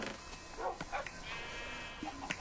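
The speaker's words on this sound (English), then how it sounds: "And we'll do the cows and sheep as well." Minecraft sheep in a farm pen bleating in short, nasal calls, a few scattered bleats close by amid other farm animal noises.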